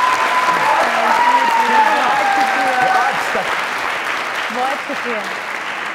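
Studio audience applause rings out on a comedy talk show, steady loud clapping that carries through the whole stretch while someone speaks over it briefly.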